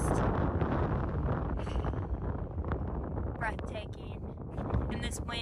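Strong wind in Moab, Utah buffets the microphone in loud, roaring gusts that rise and fall, with a person speaking intermittently over the rush.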